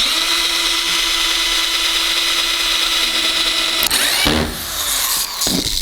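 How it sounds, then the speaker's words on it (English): A power drill runs steadily while driving screws into wall panels, a continuous whirring drone near and loud, then breaking into short bursts and stops as screws seat toward the end. "we're gonna add some more screws going along the sides so that it won't do that"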